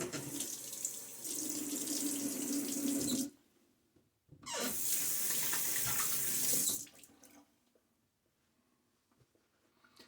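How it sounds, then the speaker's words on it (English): Water gushes steadily from a tap into a sink, stops, then runs again for a couple of seconds before shutting off into quiet. "A bit of water."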